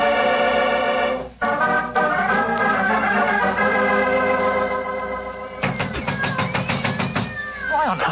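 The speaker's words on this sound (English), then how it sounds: "There are cats inside our dressing room." Several cats meow and caterwaul behind a locked dressing-room door in a radio drama, the yowls loud, close and overlapping, with long wavering cries and a burst of rapid meows near the end.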